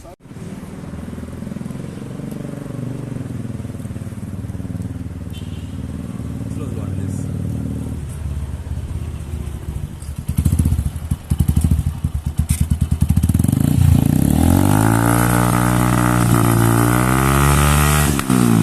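A modified Honda CG 125 motorcycle engine idles steadily, then revs up repeatedly in loud, rising bursts, close by, with a voice talking over it early on.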